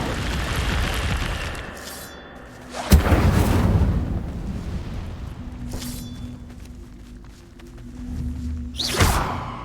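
Incendio fire spell cast in Hogwarts Legacy, a sudden loud burst of flame that flares and rumbles for a second or two; a second blast follows later, with whooshing effects between.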